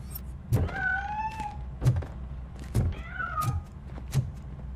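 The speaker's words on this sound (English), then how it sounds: "That cat must be hiding inside." A cat meows repeatedly in a RoboCop: Rogue City game scene, several drawn-out cries spaced across the moment with soft thumps between them, fairly quiet and heard without talk.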